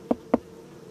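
Two short, buzzy bursts of honeybees a quarter second apart after their hive is knocked, close and fairly loud, followed by quiet.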